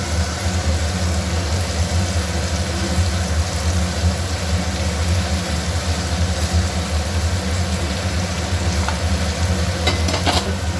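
Pomfret pieces go into a pan of spiced gravy with chilli powder and water, giving a continuous hissing sizzle and bubbling that stays steady throughout, with a low hum underneath and a few faint clinks near the end.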